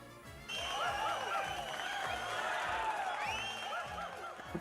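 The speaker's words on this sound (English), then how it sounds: "And claps, I guess." Claps and cheering from a crowd in the Twisted Wonderland video game, a steady layered wash of applause with bright chiming confetti effects on top, starting abruptly and holding loud throughout.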